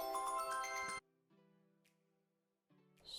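A mobile phone ringtone plays loudly in a short melodic burst, then cuts off and is followed by a quieter repeated tone with brief gaps, in a quiet indoor room.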